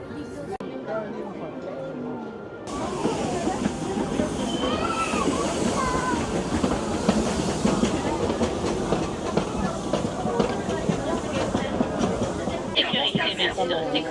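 Ride train at Disneyland Paris rolling into Pirates of the Caribbean, a continuous rumble with light clatter and watery sloshing, with voices chattering around it.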